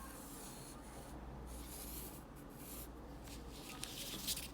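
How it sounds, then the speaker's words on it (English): A pencil draws a light line along a ruler on paper while sketching a one-point perspective box, giving a soft, steady scratchy rub that stays faint and close over a low background hum. "So I'm gonna draw a light line."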